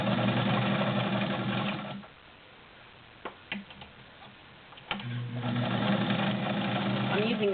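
A Morse Super Dial straight stitch sewing machine runs smoothly and steadily in two loud bursts separated by a quiet pause with a few faint clicks.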